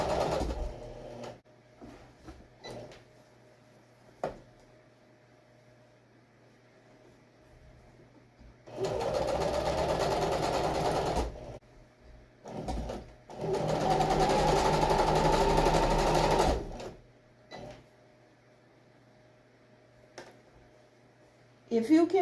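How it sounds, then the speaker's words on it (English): A sewing machine stitches a zipper into a box cushion, running in two sustained bursts of several seconds each with quiet pauses between, close and fairly loud, with a few handling clicks around the runs. "You don't have to straight stitch all the way."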